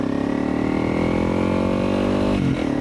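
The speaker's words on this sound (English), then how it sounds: "the bike's got plenty of pull for this sort of thing, plenty of acceleration" A Honda CRF300 Rally motorcycle in first gear climbs uphill, its single-cylinder engine droning loud and close with a steady pulsing tone that rises in pitch, then dips briefly near the end.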